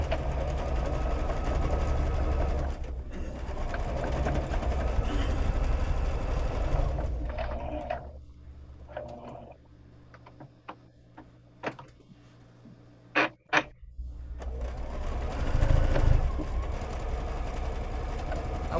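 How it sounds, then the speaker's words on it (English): A sewing machine stitches a seam on a heavy beach bag with a full quarter-inch allowance, running steadily for several seconds, pausing with a few clicks and back-tack bursts, then running again close and loud. "I'm still going to sew off at the end"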